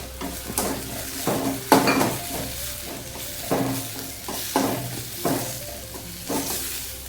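Onion and tomato sizzle in a pan for a brinjal curry, with repeated close spoon or spatula strokes scraping against the metal over a steady frying hiss, without any talk.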